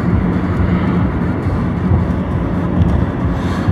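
Steady rumble from inside a train on the line between Grodzisk Mazowiecki, Błonie and Sochaczew in the evening: continuous loud low-pitched rolling noise, even and unbroken.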